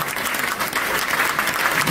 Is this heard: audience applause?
yes